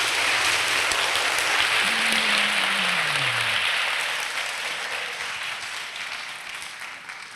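An audience applauds both sides of a high school Crossfire debate, a dense, steady wash of clapping that fills the room and tapers slightly toward the end, with a brief low tonal voice-like sound sliding downward partway through.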